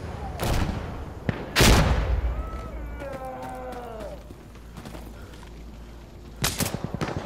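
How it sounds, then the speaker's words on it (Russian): Gunfire in the tactical shooter Insurgency: Sandstorm, several sharp loud shots and short bursts at the start and end, with a quieter stretch of faint background battle and a brief whistling tone between. "В меня стреляют откуда-то, я не могу понять откуда."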